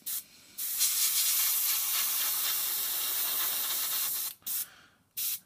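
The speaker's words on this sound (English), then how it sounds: "blow it dry using the airbrush" An airbrush sprays thinned gloss varnish onto a scale model at about 22-25 psi, a loud close hiss lasting nearly four seconds, followed by two short bursts.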